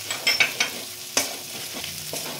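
Prawn malai curry masala frying in oil in a pan, with a few sharp scrapes of a spatula early on, then a soft, quiet sizzle with occasional light clicks and stirring taps.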